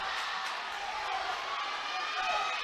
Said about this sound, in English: Wark trying to be the aggressor with the crowd chanting his name